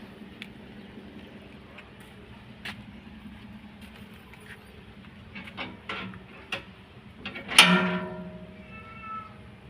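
A pet cat meows a few times outdoors, short cries rising near the end with one louder, sharper meow, over quiet street background with a faint passing vehicle.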